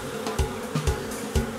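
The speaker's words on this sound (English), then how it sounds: "so I can watch the bees march and find the queen" Bees buzzing close by in a steady drone, with a few soft knocks and bumps in the low end, as they march across wood.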